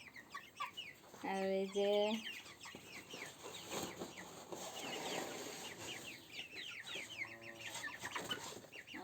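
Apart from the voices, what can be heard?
broiler chickens clucking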